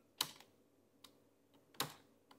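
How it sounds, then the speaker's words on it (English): Keys clack on a computer keyboard attached to a Raspberry Pi 5: a few sharp, sparse keystrokes with two louder presses among softer taps, close and fairly quiet, with no talking. "And I'm going to use my keyboard for this bit."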